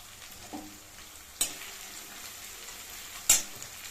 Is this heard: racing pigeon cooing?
no